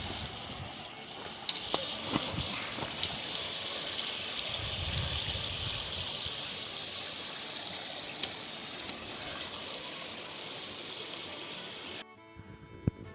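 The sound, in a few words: Harper's Creek flowing water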